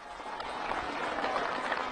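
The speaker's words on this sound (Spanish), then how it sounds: "Trabajadores, un aplauso para esas hermanas y hermanos." At Evo Morales' rally on his return to Bolivia, a large outdoor crowd of workers applauds in a broad, steady roar of clapping that swells slightly and keeps going.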